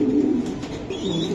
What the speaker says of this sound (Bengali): রুবেল এই যে তোমার 10টা রেস করা কবুতর তো ব্রিডিং করতেছে অলরেডি আমি দেখতেছি।